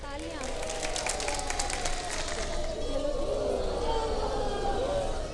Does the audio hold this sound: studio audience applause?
yes